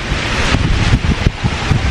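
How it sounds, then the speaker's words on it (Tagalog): Strong gusty wind buffeting the microphone during an outdoor aglaonema air-layer harvest, a loud roaring rumble with no voices. "Hangin."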